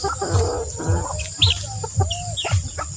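Backyard chickens cluck in short repeated bursts about every half second, with occasional higher chirps in between, close by and fairly loud.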